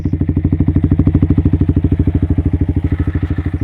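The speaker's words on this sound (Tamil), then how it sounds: "இந்த வண்டியோட எக்ஸாஸ்ட் நோட் எப்படி இருக்குன்னு சொல்லி நீங்களே கேளுங்க" A Yamaha XSR 155 retro roadster motorcycle idles close by, its exhaust thumping in a steady, even pulse that stays loud and consistent throughout.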